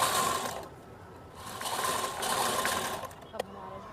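Sewing machine running a straight stitch along the double-folded lining of a top, a fast mechanical whir in bursts that stops and starts, close up with a voice speaking over it.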